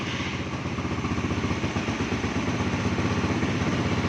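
A Raider 150 Fi motorcycle with its check engine light on idles high, a close, steady, rapid engine putter with light mechanical clatter and no talking.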